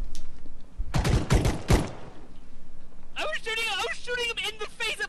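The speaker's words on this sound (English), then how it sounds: "I was shooting him in the face at point blank range" Rapid bursts of video game gunfire crackle loudly and up close in a short volley, followed by someone talking excitedly.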